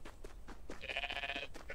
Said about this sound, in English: there's a button for making noise as a sheep